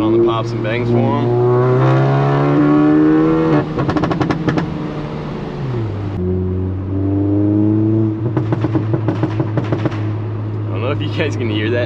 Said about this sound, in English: cut on the pops and bangs for them